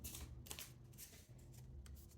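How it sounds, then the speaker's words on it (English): Oracle cards being shuffled by hand, a close, soft run of riffling and sliding card flicks that continues steadily throughout, with no talking. "As I shuffle these cards"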